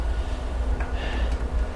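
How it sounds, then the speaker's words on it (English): A train idles at a station platform bound for Boston, a loud steady low rumble with faint hissing and clanks, close and continuous with no talk. "as this train still waits."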